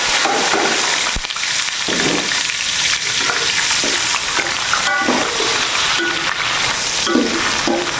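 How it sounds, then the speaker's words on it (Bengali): Onions fry in hot oil in a home kitchen, a loud continuous sizzle broken by repeated scraping and stirring knocks of a spatula against the pan. "পেঁয়াজ ভাজা হয়ে গেছে"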